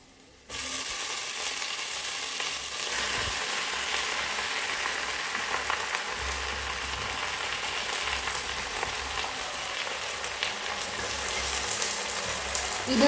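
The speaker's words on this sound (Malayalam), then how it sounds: "ഇനി നമ്മൾ അരിഞ്ഞു വെച്ച 10 ഇലകൾ നമുക്ക് ഇതിലേക്ക് ഇട്ട് കൊടുക്കാം." Chopped leaves dropped into a hot pan for Kerala-style thoran set off a sudden, steady sizzle that fills the whole stretch with a dense, hissing, rain-like crackle, close and continuous, with no voices.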